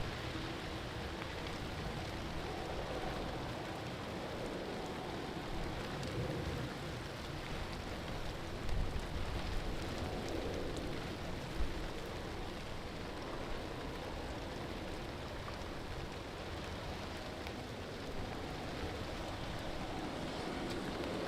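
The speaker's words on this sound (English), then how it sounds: "Can you hear the rain?" Steady rain at Lisbon Airport during strong wind, a dense, even wash of noise holding throughout with no talk over it.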